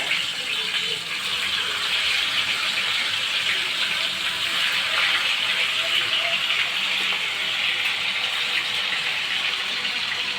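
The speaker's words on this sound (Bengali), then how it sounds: "এই যে মাছগুলো আমি এখন তেলের উপরে সুন্দরভাবে ভেজে নেব" Four pieces of rohu fish fry in hot oil, giving off a loud, steady, unbroken hiss that holds evenly for the whole stretch, with no talking over it.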